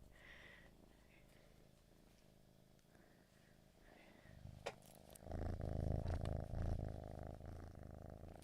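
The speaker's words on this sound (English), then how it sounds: "ASMR cat purrs." A cat purrs close to a microphone, a steady low rumbling throb that grows louder and fuller in the second half, with faint background voices early on.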